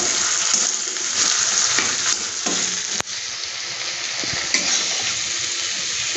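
Masala with chopped tomato frying in a pan over very low heat for a fish curry with drumsticks, a dense, even sizzle up close, broken by a few scraping stirs and a sharp clink.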